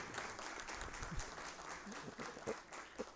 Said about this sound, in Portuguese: meu querido João Carlos Meirelles, para quem eu peço uma salva de palmas.